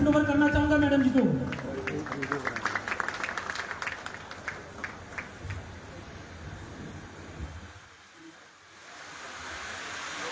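A voice speaks briefly, then a crowd at an IMC business plan meeting breaks into clapping that carries on for several seconds before fading away.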